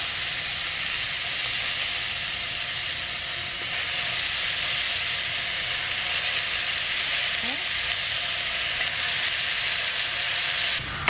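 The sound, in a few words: portobello mushroom frying in sesame oil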